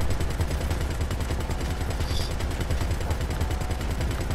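Rapid, continuous turret gunfire from Grand Theft Auto V, fired in first person, pounding out a fast, even stream of loud shots for several seconds.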